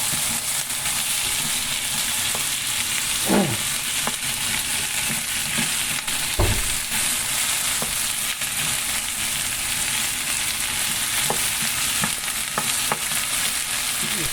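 Potatoes stir-fry in a shallow pan with a continuous loud sizzle and hiss of oil, broken by occasional scrapes and clinks of a utensil stirring, close up and with no talking.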